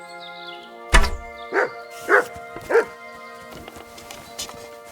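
Dog barking in the video game Kingdom Come: Deliverance II, a sharp thunk followed by three spaced barks over a quiet medieval background with a faint tonal music bed.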